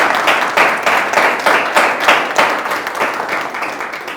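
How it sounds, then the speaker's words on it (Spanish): Audience applause closing a talk, a steady burst of clapping from a small group with slightly rhythmic surges, close and fairly loud, without speech. "Yo creo que le damos un buen aplauso."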